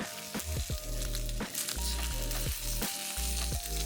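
A block of instant ramen sizzles face down in a hot pan, a steady close frying crackle with occasional scraping stirs or nudges in the pan.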